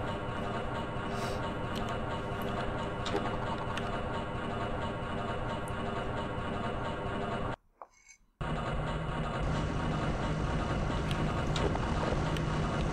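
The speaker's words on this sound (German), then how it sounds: "Oh, ein Heli, der ist bestimmt da," A helicopter in the video game Half-Life gives off a loud, unbroken whirring drone that cuts out for under a second midway and then resumes at full strength, with no speech.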